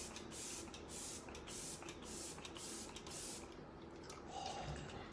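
Several short hissing bursts of a refreshing makeup setting spray misted on a face, close up, with a brief pause between each spritz.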